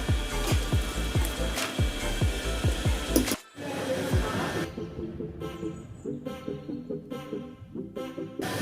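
A mixer grinder churns peanut chutney with chillies and salt, giving off a loud, rhythmic, pulsing mechanical whirr that cuts off briefly and then resumes with a softer, repeating chug.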